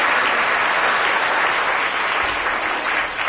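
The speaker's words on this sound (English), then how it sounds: "Give a round of applause to Fred" Sustained, dense audience applause fills the room for a few seconds after a live chemistry demonstration about airbag nitrogen, steady and loud with no talking.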